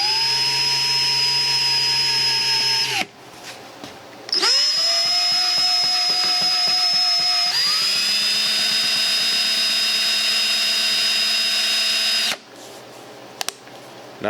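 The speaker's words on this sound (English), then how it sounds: "I'm going to start with the drill on reverse." A 3/8 drill bores out a stuck part of an antique oak table, its motor whining loudly in long sustained runs, stopping briefly, then spinning up again at shifting speeds before cutting off near the end.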